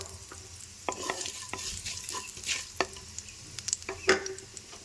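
Panch phoron spices frying in hot oil in a pan, used after greens were lightly fried and removed, giving a soft steady sizzle with scattered crackles and stirring scrapes, close and fairly quiet.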